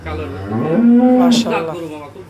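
A Holstein Friesian dairy cow moos once, a long, loud, low bellow rising and then tailing off, close by with no talking.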